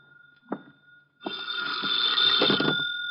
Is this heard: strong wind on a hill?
no